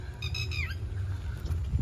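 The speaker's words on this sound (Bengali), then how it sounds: "এই পাখিটা ডাকছে" A single bird squawks with a short rising-and-falling call early on, over steady patter of light rain in a wooded countryside setting, near and clear with no talk.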